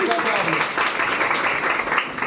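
Applause and clapping after a correct quiz answer, a dense steady patter heard close and fairly loud throughout, with a voice speaking over part of it.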